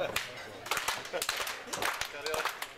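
Crowd clapping at a women's wrestling match at a W3L show, rhythmic bursts of hand claps ringing through the venue under steady commentary.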